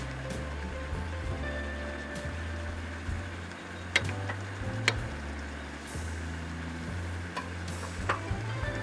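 Potatoes frying and browning in a pan while cooking outdoors in an RV, a steady low sizzle with occasional clicks and scrapes over a constant hum.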